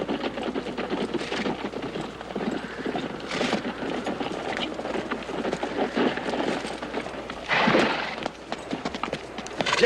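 Rhythmic hoofbeats of horses galloping alongside a wagon, a steady busy clatter throughout with a louder burst near the end.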